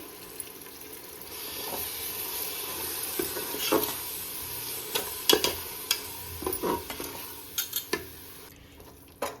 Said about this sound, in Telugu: ఇట్లా ఒక కప్పు పెరుగు వేసుకొని ఒకసారి మంచిగా కలుపుకోవాలి